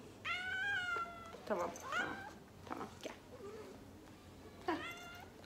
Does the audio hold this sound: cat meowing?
yes